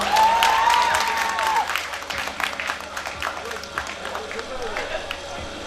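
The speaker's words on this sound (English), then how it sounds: "Guys, please clap for her." Audience applause for an award recipient at a college cultural fest, a sustained crowd clapping with a voice speaking over the start.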